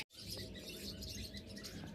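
Pet birds, including a pair of American lovebirds offered for sale, chirping and twittering continuously, faint and a little distant, with no talking.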